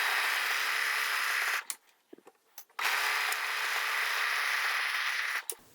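A sewing machine stitches a 1950s vintage-style coat in steady, close, fairly loud bursts of motor whir, stopping briefly for about a second before running again.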